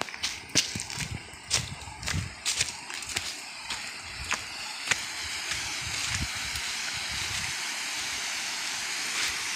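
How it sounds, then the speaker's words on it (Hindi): Gullu waterfall in the forested Jashpur hills flows with a constant rushing wash that becomes steady and dominant in the second half, preceded by crunching footsteps and handling knocks nearby. "ये है घनी वादियों के बीच गुल्लू फाल"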